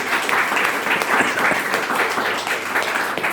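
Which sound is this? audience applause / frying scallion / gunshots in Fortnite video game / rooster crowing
audience applause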